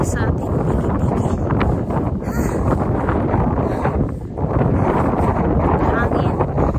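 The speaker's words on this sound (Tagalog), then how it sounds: "Hangin." Strong wind buffets the microphone in a constant rushing roar, with a voice speaking faintly underneath.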